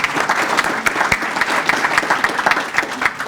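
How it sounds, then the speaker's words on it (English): An audience at an awards luncheon claps in dense, sustained applause at moderate volume, with a few sharper individual claps standing out. "So we want to give them a round of applause."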